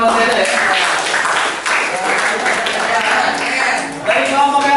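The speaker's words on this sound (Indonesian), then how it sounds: "Kasih tepuk tangan buat Teda ya." Classroom applause for a student, a group of pupils clapping steadily for several seconds with voices mixed in.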